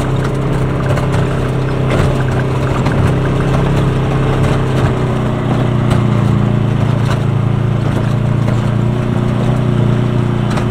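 A Polaris side-by-side idles on Colorado's Alpine Loop near Silverton, a steady, loud, close engine hum with a constant low drone throughout and no speech.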